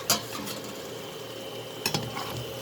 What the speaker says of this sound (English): So here our samosas are fried.